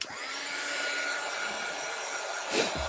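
A hair dryer blows steadily over paint on a rice paper collage, a constant close whoosh that holds for nearly three seconds, with a brief louder rumble near the end as it is moved.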